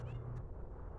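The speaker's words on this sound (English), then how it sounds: "Come here, kitty." A cat meows outdoors: one short, steady meow sounds early and close, over a low background rumble.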